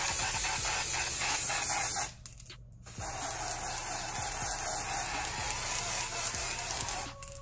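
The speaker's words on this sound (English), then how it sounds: "I wonder what it would look like if I spray this." Ebin lace tint spray can being sprayed in steady hissing bursts, close and fairly quiet, with a short pause partway through.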